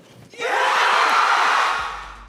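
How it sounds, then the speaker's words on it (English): A big San Diego Comic-Con 2024 crowd erupts into loud, sustained cheering and screaming, swelling quickly and holding steady before tapering off. "While the Comic-Con crowd went nuts"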